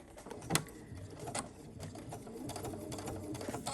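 A sewing machine fitted with a bi-level foot runs at a slow speed for topstitching, a faint, soft mechanical whir with a sharp click near the start, quiet and alone.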